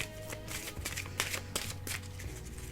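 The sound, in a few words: shuffling oracle cards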